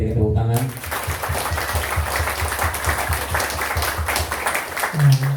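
Audience clapping steadily at a Buddhist ceremony in Jakarta, brisk and continuous after a voice at the start, with speech resuming near the end.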